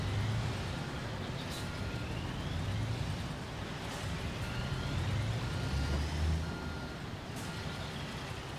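A concrete truck in Construction Simulator backs up, its faint reversing beeps sounding at intervals over a steady, rumbling diesel engine and broad mechanical noise.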